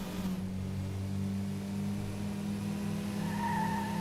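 Mazda Miata racing through city streets in the Metropolis Street Racer video game, a steady droning engine hum holding throughout with faint tire squeal and rising engine tones near the end.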